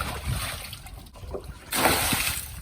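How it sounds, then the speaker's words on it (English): Water slops and trickles as the last of it drains from an old koi pond, a continuous close splashy wash that swells louder near the end. "Getting rid of the last of the water."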